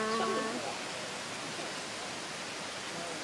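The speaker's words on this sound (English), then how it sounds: "Waterfall! I'm just pointing at a waterfall." Steady broadband rush of a waterfall seen from high above, continuous and fairly loud throughout, with brief voices and a faint tonal sound at the start.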